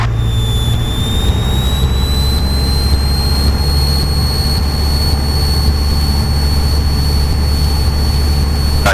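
A light training aircraft's piston engine runs steadily at about 2000 RPM during flight, a loud continuous drone with a high whining tone that rises slightly and then holds.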